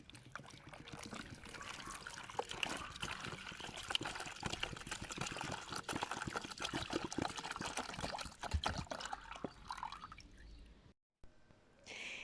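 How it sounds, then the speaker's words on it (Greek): Water pours and trickles onto garden flowers in a continuous splashing stream, close and steady, then stops abruptly near the end. "ποτίζω τα λουλούδια μου"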